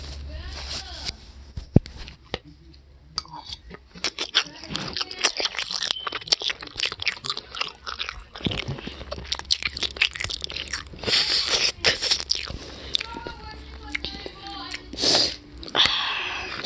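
Wet, crunchy chewing and biting of spicy spaghetti, close and intimate, with irregular mouth sounds, sniffs and a sneeze-like burst across the clip.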